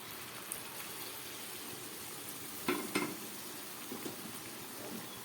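Frying pomfret fish curry crackles in a pan with a steady faint sizzle, broken by a brief louder burst of hiss and bubbling as warm water is poured in, then settling back.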